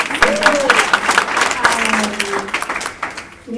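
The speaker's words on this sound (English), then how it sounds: "we can have another round of applause for that" A round of applause from a lecture audience, steady clapping for about three seconds that dies away, with a speaker's voice briefly heard over it.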